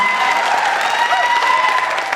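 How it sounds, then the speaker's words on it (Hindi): An audience at a Hindi comedy poetry gathering (hasya kavi sammelan) claps loudly, with steady sustained applause and some tonal sounds carrying over it. "ताली एक बार जोरदार बजा दीजिए तो मैं शुरू हो जाऊं।"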